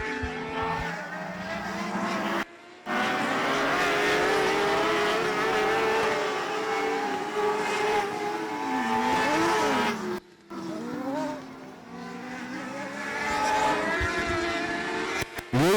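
Race cars roaring loudly around the oval at Texana Raceway Park on championship night, engines droning and rising and falling as they accelerate through the turns, with a couple of brief dropouts.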